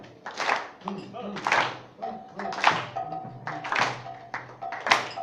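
People clapping their hands while dancing at a home gathering in Trinidad, a run of rhythmic claps and taps in clustered bursts, close and moderately loud, mixed with voices and a sustained tone.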